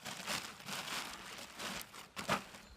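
A plastic bag is set into a bucket and gives soft, faint crinkling and rustling. The sound comes in close, irregular bursts with a slightly louder crackle near the end.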